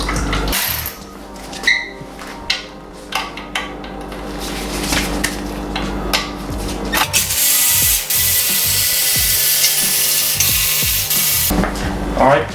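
A socket ratchet backs out the oil pan bolts of a sludge-filled Ford 302 V8 indoors, with bursts of clicking and metallic clanks, then a louder stretch of rattling and scraping as loose parts are handled.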